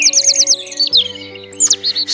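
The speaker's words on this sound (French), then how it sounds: "Un merle blanc est un merle commun" A leucistic white common blackbird in Plérin, Côtes d'Armor, gives rapid bright trilling calls and warbled phrases up close, with a steady low tonal hum underneath throughout.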